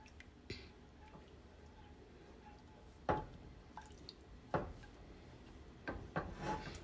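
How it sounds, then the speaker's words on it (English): A milk mixture for churros stirred in a pot as it heats: quiet, sparse taps and soft scrapes of the spoon against the pot at irregular intervals over a low background hum. "Get this boiling and stirring this frequently"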